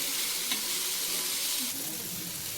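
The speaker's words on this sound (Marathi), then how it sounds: "कांदा भाजला पाहिजे टोमॅटो भाजला पाहिजे चांगला" Onion and tomato frying in a pan for kharda, a continuous close hiss of sizzling with a brief stirring clink and a slight drop in level near the end, no talk.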